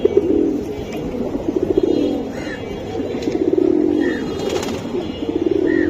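Several pigeons, including homers and highflyers, coo in overlapping low rolling phrases close by, with a few faint chirps above and no talking.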